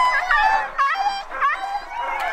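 Several Siberian huskies howl and whimper together in a rising, wavering chorus close by, at a dog sledding outfit near Toronto before a run, with overlapping yips and cries throughout.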